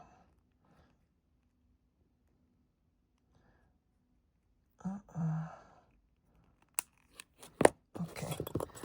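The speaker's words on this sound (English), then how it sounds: "now I'm going to take my cutters and cut that as close as I can" Wire cutters snipping thin jewelry wire while making earrings: a few sharp, quick clicks and snaps near the end after mostly quiet handling, close up, with a brief breathy sound earlier.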